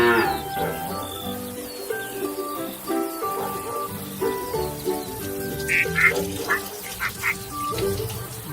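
Toy farm animal sounds on an educational kids' set, with a cow's moo among other animal calls and tinkly music, fairly loud throughout; no speech is evident.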